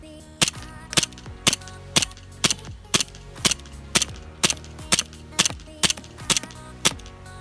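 A 1911 tactical airsoft pistol fires at a box about 100 feet away: roughly a dozen sharp, snappy cracks spaced evenly about half a second apart, close and distinct, each with a quick metallic tail.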